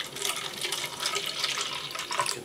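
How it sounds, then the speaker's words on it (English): Brisk Fruteria watermelon drink poured into a cup, a steady close splashing and trickling of liquid running continuously for a couple of seconds with no talk. "Let's pour some in."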